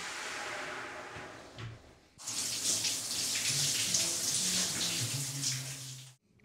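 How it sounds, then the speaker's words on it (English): A shower starts running, a loud steady broadband rush of water that switches on abruptly after a quieter stretch of faint tap-like water and clunks, then cuts off near the end. "I will be taking the shower"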